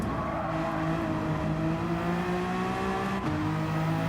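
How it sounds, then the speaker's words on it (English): Honda NSX race car engine in Gran Turismo 7, a steady high-pitched whine held at high revs, with a brief dip at a gear change, loud and continuous without talk. "NSX engine is really nice. If you mean the sound, yeah. It's quite pleasing to hear."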